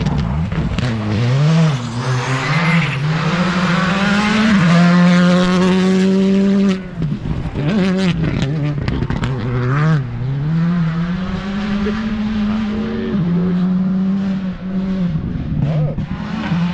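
Rally car on a training run for the Lavanttal rally roars past close by, engine revving hard with rising and falling pitch through gear changes, loud and continuous, briefly dipping before pulling away again.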